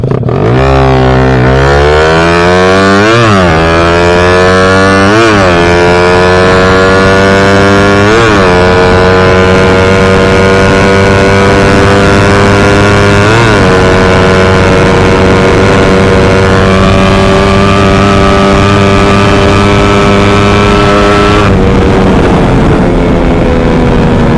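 A loud Raider 150 motorcycle engine with a radial carburetor revs repeatedly, pitch climbing and dropping with each throttle blip, then holding a steady, rough idle-to-mid rumble close by.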